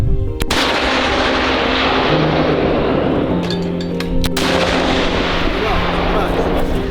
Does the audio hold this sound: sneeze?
no